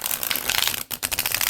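A tarot deck is shuffled with a quick, crisp riffle of cards, a dense fluttering burst that breaks briefly and then resumes, close and clear.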